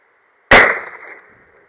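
A single sharp rifle shot from a .270 WSM fired at a distant target cracks loudly, close up, then trails off in a decaying echo before silence.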